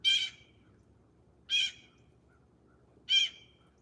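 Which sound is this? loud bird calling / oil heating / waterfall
loud bird calling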